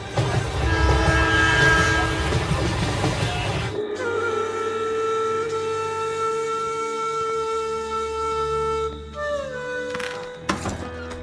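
A cartoon sound effect of a train on the move: a rumbling, clattering run gives way to long sustained horn tones that shift pitch near the end, all loud and close.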